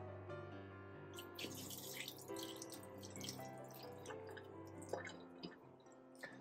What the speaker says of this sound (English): you just pour off the water.